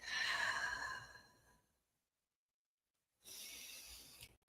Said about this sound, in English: as you do a few more of those ha's on the exhale